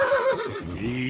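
A horse in Kingdom Come: Deliverance II gives a short, close, wavering neigh that rises and falls in pitch for about a second.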